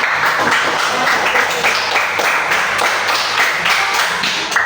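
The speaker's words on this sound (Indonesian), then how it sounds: "Ya, tepuk tangan." A university audience at a learning-kit presentation session applauds in dense, continuous clapping that holds steady and loud throughout.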